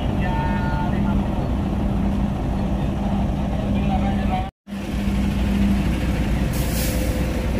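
A heavy truck at Merak harbor revs to climb onto a ferry, producing a loud, steady diesel rumble that cuts out briefly and then resumes, with a hiss near the end.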